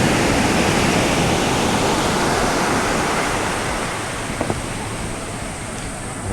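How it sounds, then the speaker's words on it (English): Steady broadband roar of ocean waves breaking on a beginner surf beach on Lombok's south coast, continuous and fairly loud throughout, with no voices. "Good waves for beginner surfing and learning to surf."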